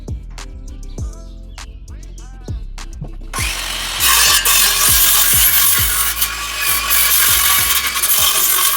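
Hand sanding of wooden birdhouse wall pieces, a steady rough scraping rasp that starts after a few seconds of knocking and thumps and continues loud and close.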